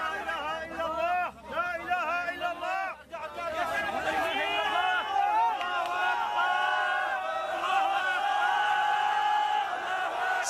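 A crowd at an earthquake rescue scene cheers and shouts as a child is pulled alive from the rubble, a loud, sustained mass of whoops and excited voices with chatter mixed throughout.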